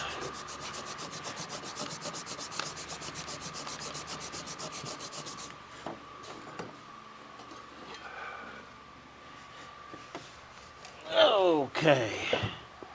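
A power drill scrubbing dirt off an HVAC box, a steady grinding rasp for several seconds that stops, followed by quieter handling noises and short bursts near the end.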